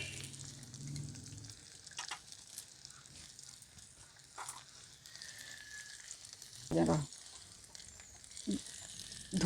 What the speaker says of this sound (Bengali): আদা রসুন ভাজা ভাজা হয়ে গেছে, এরপর দিয়ে দিচ্ছি একটু নুন